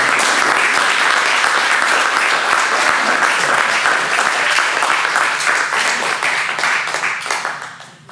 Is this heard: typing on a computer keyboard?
no